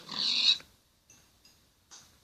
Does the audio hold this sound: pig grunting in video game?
yes